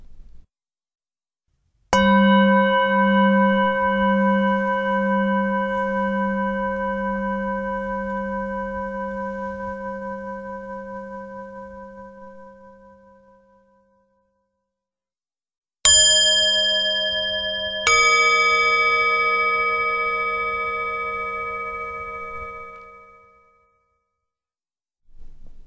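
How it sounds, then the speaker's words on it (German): Meditation bells ring out in a quiet room: one long, pure resonant strike sustains and slowly fades over about twelve seconds, followed after silence by two closely spaced strikes that shimmer and decay. "Und während du dem Klang der Glocken lauschst"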